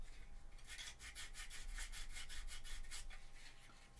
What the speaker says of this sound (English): a little bit of sanding and it's gone.